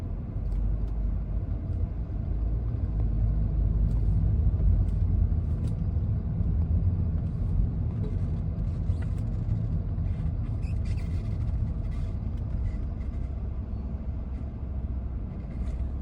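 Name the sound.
road traffic heard from inside a car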